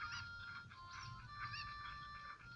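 Chickens in the video game The Legend of Zelda: Ocarina of Time give a run of squawky, honking clucks, several short calls in quick succession over steady background game sound.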